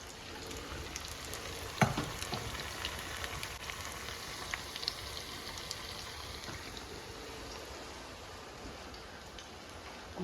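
Sliced bottle gourd fries in hot oil with a steady, close crackling sizzle and fine popping throughout, broken by a single sharp click early on.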